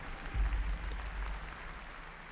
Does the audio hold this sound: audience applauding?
yes